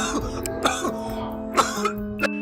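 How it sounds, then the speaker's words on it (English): A cameraman coughs and clears his throat in several short, harsh bursts, close to the microphone, with brief gaps between each fit. "The cameraman's reaction to the demon is intense, causing him to cough uncontrollably."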